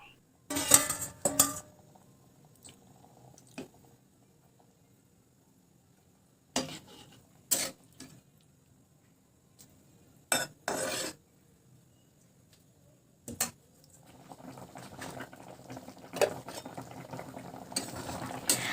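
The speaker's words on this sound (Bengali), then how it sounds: "হালকা হাতে তরকারিটা একটুখানি নাড়াচাড়া করে নিচ্ছি" A spoon clinks and scrapes against a pan as mustard koi fish curry is gently stirred, in scattered short bursts separated by quiet pauses, with a soft bubbling simmer building near the end.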